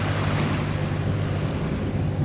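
Sea swell rocks a boat running under engine and sails, heard as a steady, close wash of wind and water noise over a low, even engine hum, with no talking.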